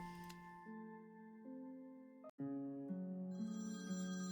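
A phone rings in a video game, a tonal electronic ringtone stepping through a repeating melody, fairly quiet, with a brief click midway and no speech.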